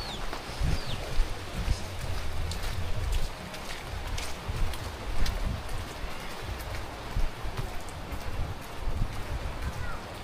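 Steady rain patters all around outdoors on a shore by a fishing boat, with dense, even noise and scattered drops, with a faint voice somewhere in the mix.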